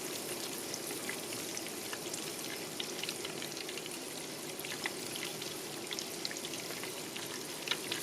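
Butter browning and sizzling in a pan for a sage sauce to go with pan-fried gnocchi: a steady, even crackle and hiss throughout, close and continuous with no talk.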